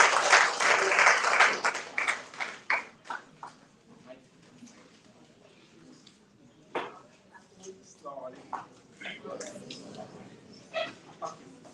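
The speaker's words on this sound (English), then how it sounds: "Can we please give Usman a round of applause?" A short burst of applause at a book launch, clapping loud at first then quickly thinning out into scattered claps, followed by quieter talk and murmuring.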